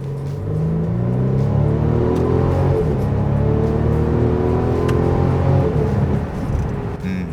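Inside a Mercedes-Benz GLC 300 Coupe accelerating in manual shifting mode: the engine note climbs steadily in pitch and drops at each gear change, repeating in a rising pattern over a constant road rumble.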